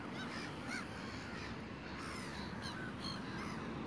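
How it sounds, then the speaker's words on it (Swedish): Gulls near a pond in Vällingby call repeatedly over a dense, steady wash of outdoor noise. The harsh cries come at moderate distance, with no talking. "så har vi mängder med måsar"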